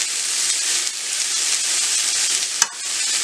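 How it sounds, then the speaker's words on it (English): Green beans sautéing in oil with no added liquid, a continuous bright sizzle close by, with one short clatter of the pan being tossed near the end. "just give this a quick toss to marry all those beautiful flavors into those green beans"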